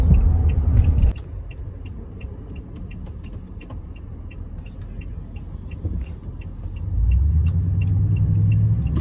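A Toyota Tundra pickup truck engine rumbles and drones steadily on a cloverleaf highway ramp, swelling louder near the end as it accelerates, with road noise and occasional faint clicks.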